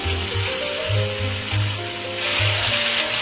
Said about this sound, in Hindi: अब हमें इन प्रॉन्स को जो है इस लहसुन और अदरक के साथ अच्छे तरीके से फ्राई करना है।